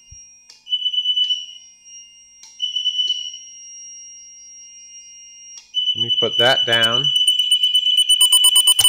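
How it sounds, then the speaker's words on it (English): A liquid level sensor's electronic alarm buzzer sounds in steady tones, twice briefly and then continuously, with a nearby voice speaking briefly over it as the tone continues. "You can hear the buzzer."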